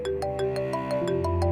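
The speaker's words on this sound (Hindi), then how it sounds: "साहब आपका फोन आया।" A phone ringtone plays a repeating electronic melody with bright, evenly spaced beeping notes, clear and fairly close.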